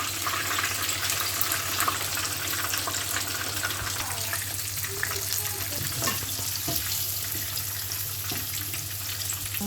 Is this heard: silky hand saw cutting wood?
no